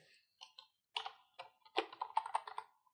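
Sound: typing on a computer keyboard

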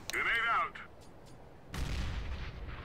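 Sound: grenade explosion in Counter-Strike: Global Offensive video game

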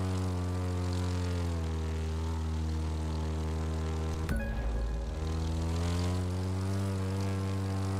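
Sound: propeller airplane engine in the video game The Crew 2

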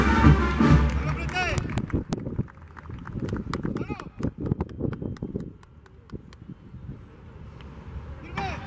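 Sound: horses galloping in a cavalry charge

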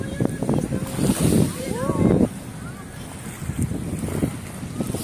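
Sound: sea waves at high tide

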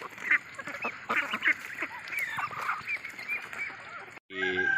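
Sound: Muscovy (Barbary) ducks

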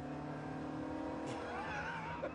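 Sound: turbocharged car engine accelerating

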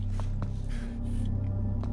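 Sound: breathing of other characters in the video game Condemned: Criminal Origins

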